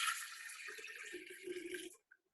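Water is poured from a jug into a liter measuring container, a steady close splashing rush lasting about two seconds before it stops, followed by a faint drip.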